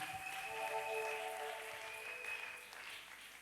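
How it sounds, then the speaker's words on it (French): A church congregation applauding during a worship service, a soft continuous patter of many hands clapping together, somewhat distant, with a faint sustained tone underneath. "Acclamons pour le Seigneur."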